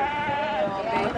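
A single wavering, nasal bleat from a goat, close and fairly loud, holding steady for about a second before trailing off.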